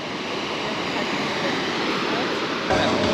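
Steady roar of ocean surf washing in nearby at Uluwatu beach, Bali, a broad continuous rush with a slight swell toward the end.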